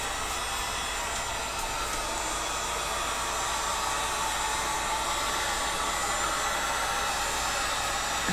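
Heat gun blowing steadily on PVC pipe, a constant loud broadband hiss and fan roar held without a break throughout, close by and alone.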